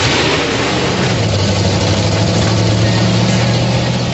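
A 1990 Ford Mustang Fox Body engine running loudly and steadily close by, a deep continuous rumble with a low hum, no talk over it.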